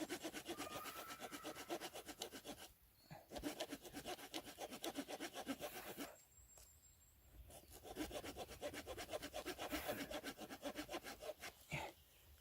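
Wood over an inch thick being cut with the saw on a knife's spine: a fast, rhythmic rasping back-and-forth, close and steady, in three long runs separated by brief pauses, with no talk.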